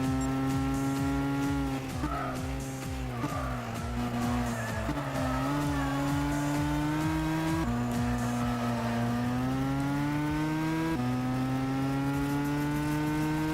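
Race car engines on the final lap in Gran Turismo 6, a loud continuous engine drone that climbs in pitch with acceleration and drops sharply at each gear shift, with occasional tire squeal.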